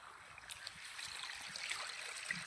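Water runs quietly along an irrigation channel into a farm field plot, a faint continuous trickle and gurgle with light splashes, soft and steady with no voices.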